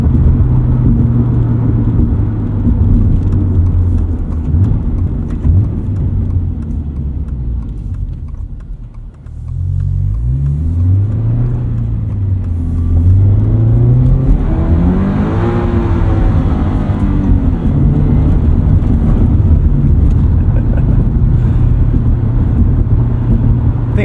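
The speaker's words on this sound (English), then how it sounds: "This is a pretty bumpy section of road here, and it really reduces impact noise." A 2022 Subaru BRZ on all-terrain tires drives over a bumpy road, with a steady engine and road rumble throughout and a brief dip before the engine note rises and swells again.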